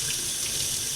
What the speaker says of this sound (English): you want to run the hot water